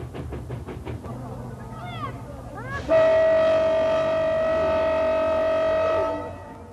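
Train on the Nanjiang railway near Turpan station, first rhythmic rumbling and clatter with a few chirping squeals, then a loud, sustained horn blast lasting about three seconds before fading back to the running train.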